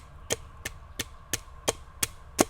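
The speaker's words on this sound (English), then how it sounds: "hopefully we'll get the hammer to work and hammer this guy" Seven evenly spaced sharp knocks as a Firebird Ganzo FSA02-YE axe hammers a rain-softened wooden stake into dirt, each strike crisp and close over a quiet outdoor background.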